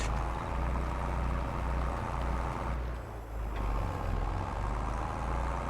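A tractor engine runs in a field during liming and ploughing, making a steady, close, low droning rumble with faint rhythmic pulses throughout. No one speaks.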